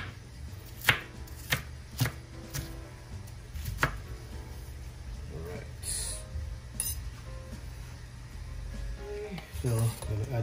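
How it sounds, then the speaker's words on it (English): Half an onion is rough-chopped on a board, sending a few sharp knife thuds early on and then sparser taps later. Someone talks over parts of it. "I got a half an onion here, so I'm gonna chop that up. Just rough chop."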